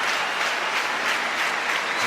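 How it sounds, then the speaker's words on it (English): Football stadium crowd at a Sweden versus England international friendly, applauding and cheering steadily and loudly throughout, a dense wash of clapping with no pauses. "Crowd as animated as they've been at any stage during the evening."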